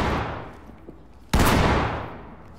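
Gunfire in the tactical shooter Ready or Not: a loud, close shot cracks out abruptly and rings into a long echoing tail, after the fading decay of an earlier blast.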